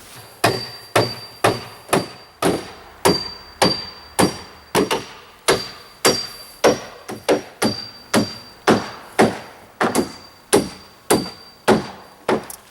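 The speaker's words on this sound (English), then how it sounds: "So now I can nail all my framing together." Hammer driving nails into wood framing lumber for the front wall of a DIY garden shed greenhouse, about eighteen sharp, evenly spaced blows close by with a steady rhythm and no talk.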